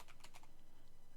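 Quiet computer keyboard typing, a short burst of a few quick key clicks followed by near silence.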